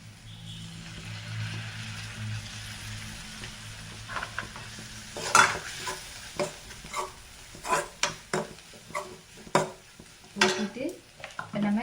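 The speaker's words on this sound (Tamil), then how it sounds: "கட் பண்ணி வச்சுருக்க சப்பாத்தி மிக்ஸ் பண்ணிக்கலாம்" Cut leftover chapati strips are stir-fried with soy sauce in a pan, a low sizzle under a run of rhythmic spatula scrapes and knocks that grow busier partway through.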